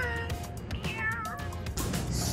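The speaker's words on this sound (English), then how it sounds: "Oh, there's a cat." A cat meowing outdoors on a city street at night, several close, drawn-out wavering meows over steady traffic and street noise.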